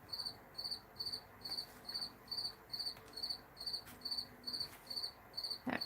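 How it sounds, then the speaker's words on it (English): A cricket chirps steadily on a quiet morning, with short bright bursts repeating in an even rhythm about twice a second. The sound is close and clear, with faint room noise and a small knock near the end. "That cricket is keeping us company this morning"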